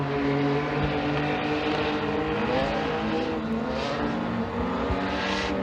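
Race cars circling an oval raceway near the end of a heat race, a sustained droning engine roar at steady distance with gentle swells as the pack passes.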